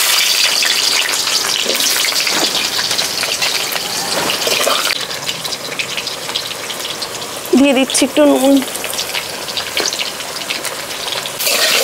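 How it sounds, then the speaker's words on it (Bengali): Cut potatoes sizzling in hot oil for a Bengali mutton curry, a steady loud frying hiss throughout with a person talking briefly over it. "আর এখন এই তেলের মধ্যেই দিয়ে দেবো এই কেটে রাখা আলুগুলো"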